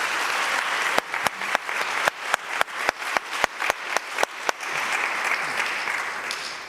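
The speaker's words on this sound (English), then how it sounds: "Can we have a round of applause for this conversation?" Applause from a conference audience at a rights plenary in Bonn: a dense wash of clapping, with a run of crisp, evenly spaced loud claps near the microphone riding over it before the crowd sound tapers off.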